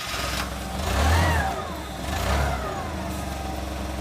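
A forklift engine starts and settles into an idle, with two swelling revs before a steady low rumble nearby, no talk.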